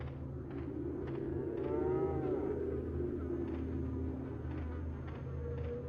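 A cow lows in a long, wavering moo from a farm area in Resident Evil 4, set against a steady low droning hum with faint buzzing, like flies, throughout.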